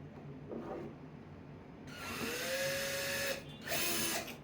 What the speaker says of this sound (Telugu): డ్రిల్ ఇది కార్టికల్ డ్రిల్ బిట్ కాబట్టి మనం ఈ కార్టికల్తో ఇక్కడ